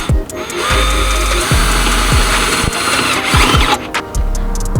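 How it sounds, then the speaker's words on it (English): A power drill whirs steadily at close range, its motor pitch dipping in repeated bursts as the bit bites into a Toyota Tacoma hood for strut brackets, with no voices. "you can drill through with the drill bit here into your exact"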